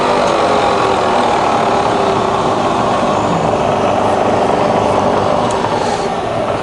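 A Bridgeport milling machine's spindle runs up to 3000 rpm, giving a steady, loud mechanical whir and hum that holds constant throughout with no talking.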